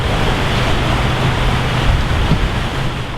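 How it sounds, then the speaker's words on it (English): Steady, loud rush of water spilling over Moonlight Falls near a fishing lodge in Sioux Lookout after heavy early rain, a continuous broadband roar with no talk over it. "That's Moonlight Falls, and right now we've got probably a lot of water coming over it"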